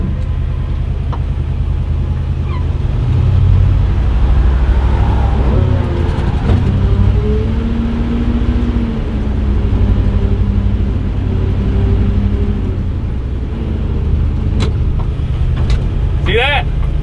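A rare 1959 Power Giant Power Wagon truck with new brakes rumbles along close by, its engine note swelling and easing as it drives, while someone talks over it.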